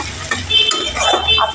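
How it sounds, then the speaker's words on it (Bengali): Chopped onion frying in a pan of oil with cardamom and cloves for a Bengali rui fish curry: a close, steady sizzle with a spoon stirring and scraping against the pan. "কুচানো পেঁয়াজটা একটু ব্রাউন কালার করে ভেজে নেব।"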